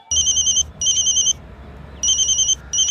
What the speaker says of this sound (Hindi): लगा फोन सिसोदिया को।